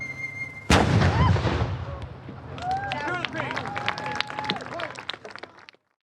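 A ceremonial musket volley fired on command bursts out loud and sharp, a single massive crack with rolling echo, followed by shouting and crowd noise with voices through the remaining seconds.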